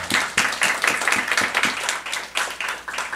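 A church congregation claps together at a Saturday worship service, a dense, steady run of hand claps with a regular rhythmic pulse, moderately loud and close, with no talking over it.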